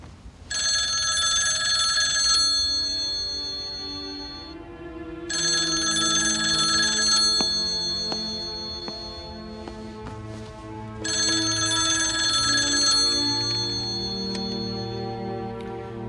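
A telephone rings in three long electronic bell bursts with pauses between, heard in a French horror thriller film over a soft musical background, with no talk.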